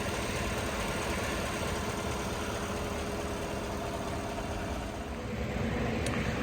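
A 5.3 liter V8 in a 2015 Chevrolet Silverado Crew Cab LT 4x4 with 75,000 miles idles smoothly, a steady low rumble with even vibration that holds constant throughout.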